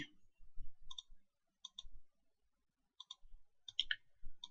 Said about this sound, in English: I'm clicking on all the wrong buttons here